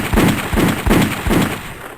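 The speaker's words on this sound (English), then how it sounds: "ond Phillips in Young Guns and Young Guns 2, shot Cyclone Pete 12 times in the groin as he slept. He shot him 6 times" Rapid gunshot effects fire in a quick series of about four sharp bangs, evenly spaced and loud.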